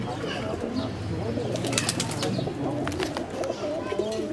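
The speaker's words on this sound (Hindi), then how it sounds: "तो पीर भाई के ये प्रवादी कबूतर" High-flying pigeons coo softly and continuously close by, with brief bursts of wing flapping in the middle, amid a murmuring background.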